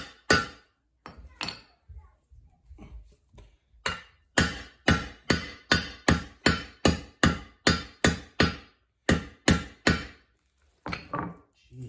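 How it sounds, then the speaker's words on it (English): A hammer taps on the upper control arm of a Yamaha YXZ, a long series of sharp, loud metallic strikes at a steady, quick rhythm after a few scattered hits, with brief talking at the start. "I'm not like slamming this hammer down. I know it's probably pretty loud, but I'm just tapping it."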